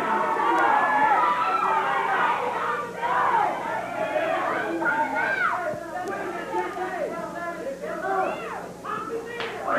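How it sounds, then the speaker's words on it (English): Wrestling crowd at a 1983 Memphis Wrestling match, a dense mix of chatter with individual spectators shouting and yelling, fairly near and continuous, with scattered thumps from the ring. "Someone in the crowd yelled"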